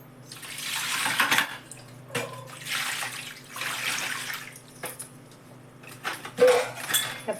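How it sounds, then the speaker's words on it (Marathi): Tap water runs in several long gushes, starting and stopping, as items are rinsed beneath it, with light clinks of dishes nearby. "पाण्याने धुवून परत मग साबणाच्या पाण्यात आधी पाण्याने धुवून घेते"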